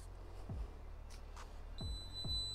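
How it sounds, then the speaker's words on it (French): A small Ecovacs GOAT G1 beacon for a robotic lawn mower gives short electronic beeps after its batteries are installed, a steady tone appearing near the end over low background rumble and handling noise. "on a bien entendu le petit bip de la balise comme quoi les piles sont bien installées"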